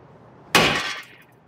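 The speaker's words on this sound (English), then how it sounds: "Hit it with the hammer. If it doesn't come out like that, hit it good." A single sharp hammer blow strikes a front brake rotor on a 2008 Toyota Matrix to knock it loose, a loud metallic crack followed by a brief ringing decay, alone after quiet.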